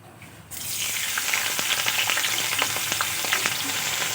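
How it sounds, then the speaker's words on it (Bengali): Cut potatoes dropped into hot oil for leftover rice vegetable fry, a quiet start giving way to a sudden loud, sustained sizzle with scattered crackles and pops, close and unaccompanied. "তেলের মধ্যে দিয়ে দেব আলু"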